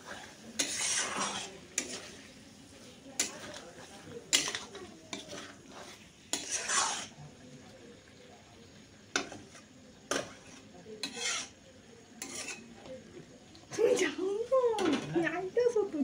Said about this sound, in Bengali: এখন ওইগুলো সবগুলো ভালো করে মিক্স করে নেবো।